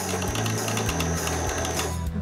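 A domestic sewing machine winds thread onto its bobbin, giving a steady, close whirring motor hum with a fast rhythmic pulsing that runs without a break and with no talking.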